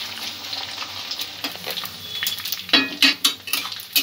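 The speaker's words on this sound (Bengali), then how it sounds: "নুডলসটা অল্প অল্প করে এইভাবে ভেজে নিতে হবে মিডিয়াম ফ্লেমে।" Noodles deep-frying a little at a time in hot oil over a medium flame until crispy: a steady crackling sizzle with sharper bursts and light clinks as they are stirred, close by and with no talk.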